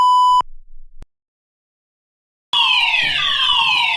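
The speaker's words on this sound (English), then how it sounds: "I'm going to pull bloody fire alarm" A school fire alarm in a cartoon, opening with a steady electronic beep tone that cuts off, a brief silence, then a loud wailing siren sweeping in pitch.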